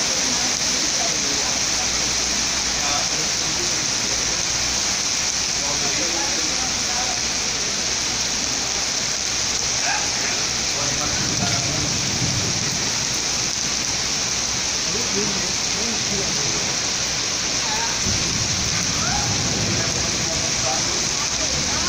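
Heavy rain during a thunderstorm, a dense continuous roar of water pouring down, steady and loud throughout with faint voices mixed in underneath.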